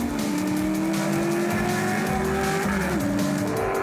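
A race car, a Lola T70 in a historic race, rounding the final bend: a loud, sustained engine drone with shifting pitch and a brief dip near the end, close and continuous without speech.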